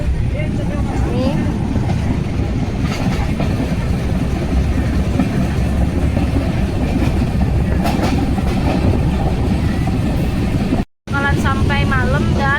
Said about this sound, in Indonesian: Ini keretanya udah jalan ya.